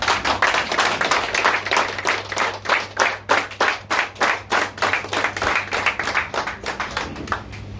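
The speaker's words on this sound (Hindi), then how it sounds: "खड़े होकर जोरदार तालियां बजाइए।" A standing audience at an Ambedkar Jayanti gathering in an SC-ST association office claps loudly and rhythmically, a fast, steady beat of unison claps over a background of general applause, with no speech.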